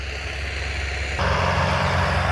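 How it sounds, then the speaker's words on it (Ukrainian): A tractor rumbles nearby in an orchard, a steady engine drone that grows noticeably louder and fuller about halfway through as it passes. "От знову трактор їде"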